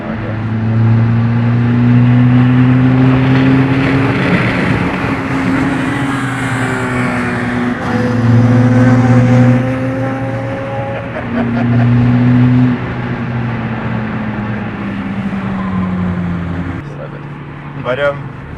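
A VW Polo TDI diesel accelerates in repeated surges, the engine drone rising and falling with gear changes, loud and close from inside the car while people talk over it.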